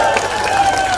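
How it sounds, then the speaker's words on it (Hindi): Audience clapping together on request at a Chief Minister's election campaign rally in Hailakandi; a dense, steady wash of applause fills the short moment, with a voice mixed faintly underneath. "सब ताली।"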